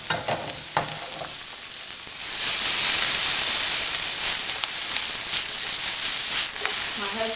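Kale greens with onions and mushrooms sizzle and hiss in a hot pan while being stirred, a loud steady frying wash that swells midway, with faint scraping and occasional spatter.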